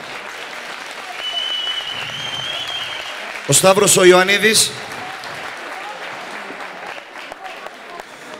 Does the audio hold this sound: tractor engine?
no